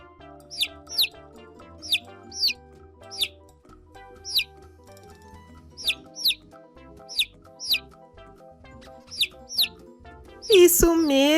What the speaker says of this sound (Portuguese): Esse é o pintinho!